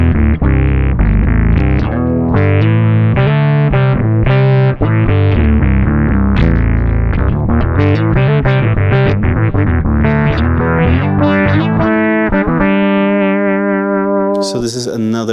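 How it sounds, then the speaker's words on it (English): Bass guitar run through a fifth-up pitch effect blended with the dry signal, then analog delay and a limiter, giving a synth-like tone; loud, sustained, distorted notes play continuously with no talking. "The pitch effect is not an octave down like on the other one. It's a fifth up, right?"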